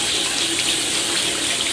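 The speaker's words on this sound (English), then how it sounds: "turn the water on. Now we're just gonna let the water run over the flask as we stir it" Cold tap water running steadily into a sink and over a glass flask while it is stirred, a close, loud, continuous gushing splash with no voices.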